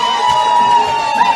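Crowd noise swells at the close of a 2022 premier grade rugby league grand final between Brighton and Burnside as fans rush onto the field, a steady distant roar with tonal whistle-like lines running through it.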